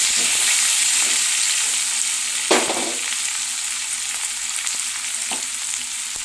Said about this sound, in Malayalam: ചെറിയുള്ളി ഇത്രയും നമുക്ക് ഇട്ടുകൊടുക്കാം അതിനെ ഒന്ന് വഴറ്റിയെടുക്കാം